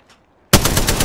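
Automatic gunfire in the Apex Legends video game on Xbox One, a sudden loud burst of rapid shots that starts after a near-silent moment and continues without a break.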